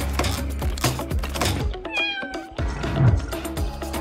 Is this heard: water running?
no